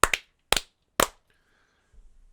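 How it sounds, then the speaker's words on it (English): Sharp hand claps for audio sync, a quick double clap followed by two single claps about half a second apart, close and crisp, then near silence with a faint rustle. "Let's do the clap real quick."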